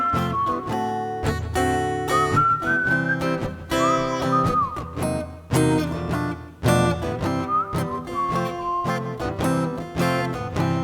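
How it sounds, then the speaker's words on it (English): A whistled melody carries the lead over a full instrumental backing, sustained tones gliding between notes, loud and steady throughout. "whistling lead"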